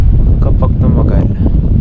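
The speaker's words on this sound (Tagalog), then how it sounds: "yung hangin napakalamig na" Cold wind buffets the microphone in a steady roar on a snowy mountain top in Scotland, with voices talking faintly underneath.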